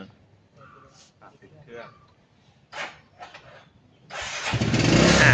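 Sparse voices and small clatters, then a Suzuki Hayate motorcycle engine suddenly fires up during servicing and keeps running loudly nearby.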